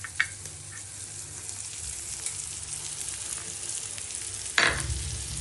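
Eyl fish curry sizzles hard in a pan as cream goes in. A steady, close frying hiss rises with a clattering splash near the end, and no one speaks.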